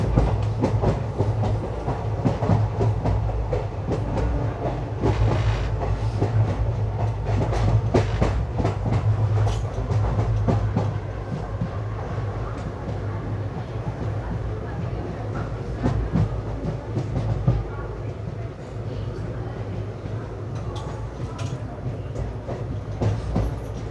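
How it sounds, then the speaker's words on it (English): The 12134 Mangaluru Mumbai Superfast Express runs along the rails near Thane station. A steady low rumble carries repeated clickety-clack wheel beats over rail joints, heard continuously and close for the whole stretch. "The train heads straight to the yard from Thane's platform number 8."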